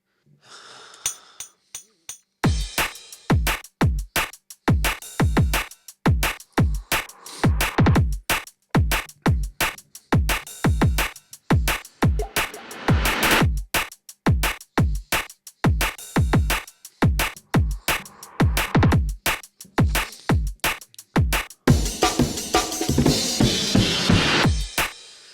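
A 16-bar beat loop programmed on an MPC drum machine plays with sharp, regularly spaced drum hits and snare strikes repeating in a steady rhythmic pattern, loud and up front.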